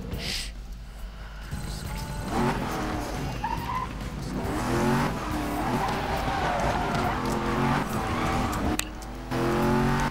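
A Lamborghini Aventador races through traffic in Need for Speed Most Wanted, its engine droning loudly and steadily with tire squeal and skidding, and a brief dip before the roar resumes.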